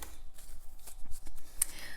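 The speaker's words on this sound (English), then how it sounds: "I'm going to shuffle some of your cards right now." Tarot cards are shuffled by hand in quick, repeated riffling and tapping bursts, close and fairly soft, with no voices over them.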